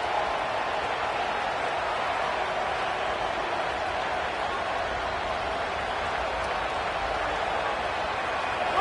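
Stadium crowd noise in a college football video game, a dense, steady roar of cheering that holds at the same level throughout, with a commentator talking over it.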